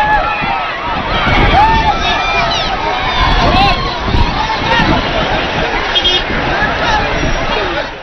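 A jubilant outdoor crowd in Chad cheers and chatters while greeting President Idriss Déby Itno, a dense babble of voices with whistles and shouts rising and falling, buffeted by some wind on the microphone.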